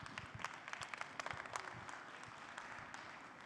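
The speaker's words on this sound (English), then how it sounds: "So a big applause, I think, to yourselves for doing all the work this afternoon" Plenary-session audience at a conference applauds themselves after an afternoon's work, a faint, distant wash of many hands clapping that swells briefly and then thins out toward the end.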